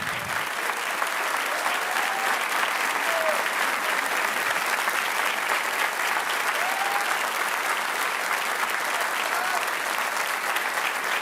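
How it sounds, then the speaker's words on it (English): Sustained applause and cheering from a large audience at a mayor's military induction ceremony, a steady dense roar of clapping that holds evenly for the whole stretch with a few voices calling out above it. "Stand up. Let us cheer you on."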